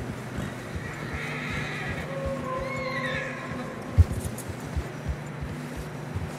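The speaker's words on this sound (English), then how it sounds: "Horses are struggling." In Red Dead Redemption 2, horses push through fresh snow with muffled hoof clops, snorts and a whinny. The sound is fairly close and steady, with one sharper thump partway through.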